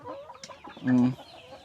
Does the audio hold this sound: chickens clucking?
yes